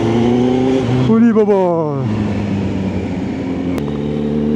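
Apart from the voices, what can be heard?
Kawasaki Z900 superbike engine revving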